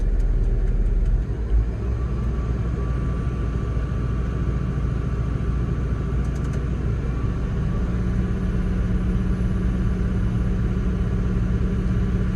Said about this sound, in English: if I ramp up the engine RPM, we should see both rise similarly